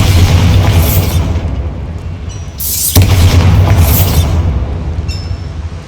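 Bombarda spell explosion in the game Hogwarts Legacy, a loud deep boom with rumbling debris, followed by a second sharp blast and a long crackling roar that fades, close and alone with no talk.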